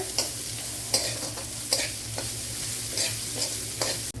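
Onion, garlic and ginger sauté in a pan, a steady close sizzle broken by several sharp stirring scrapes about once a second, with no voices.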